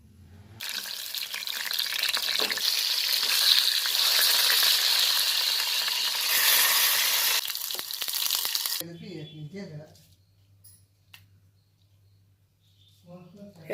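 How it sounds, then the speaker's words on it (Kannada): Ginger and garlic frying in hot oil, with a dense, loud sizzle that holds steady for about eight seconds and then cuts off. Quieter handling noises and a low hum follow. "ಕಟ್ ಮಾಡ್ಕೊಂಡು ಫ್ರೈ ಮಾಡ್ಕೊಳ್ತೀನಿ."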